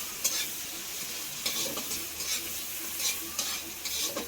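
Jackfruit seeds fry in hot oil in a pan and are stirred repeatedly. Rhythmic scraping strokes sound roughly every second over a continuous hissing sizzle, close and moderately loud.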